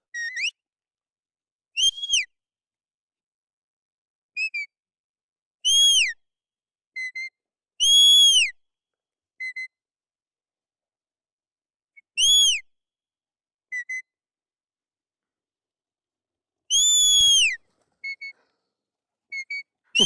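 A series of sharp, high shepherd's whistles commanding a herding dog (stop, come, left, right, back), some rising or falling, given singly and in short bursts with pauses between, loud and clear with no talking.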